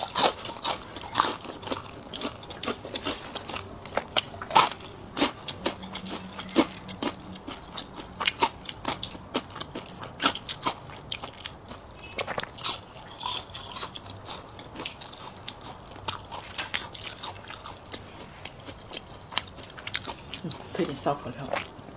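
Roast vegetables being bitten and chewed close to the mic during an ASMR eating session, with steady crunchy bites and soft chewing throughout, and occasional quiet voices.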